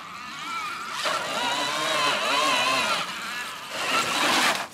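A whining electric bike motor, a Bafang Ultra with a Phaserunner controller, rises and falls in pitch as it revs up and down on a steep climb, close by and fairly loud, with surges like a small motorbike.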